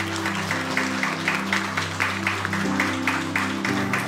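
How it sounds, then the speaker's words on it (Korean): A church congregation stands and claps warmly to bless elderly members, a steady rhythmic applause that continues evenly for several seconds over a sustained low musical tone. "우리 뜨겁게 박수로 축복하겠습니다."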